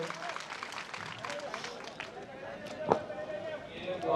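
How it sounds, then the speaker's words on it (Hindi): An audience at a Mehandipur Balaji Trust honouring event breaks into scattered applause under a loud announcer's voice over a PA, claps patchy and mid-distance, with one sharper clap standing out near the end. "जोरदार तालियों के बीच में उनका अभिनंदन करें"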